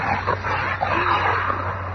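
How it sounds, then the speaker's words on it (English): A dog growls and whimpers in a Fantastic Four radio drama scene set among old wrecked cars, a steady close rumble with yips over a constant low hum, no voices. "The dog has caught my scent. What is it, boy? Why are you growling?"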